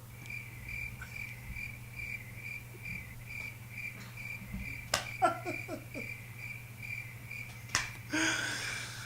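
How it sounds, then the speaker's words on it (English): Steady, close cricket chirping repeats in a regular rhythm over a low background hum, with a few sharp clicks and a brief burst of noise near the end. "Oh, I do have my crickets."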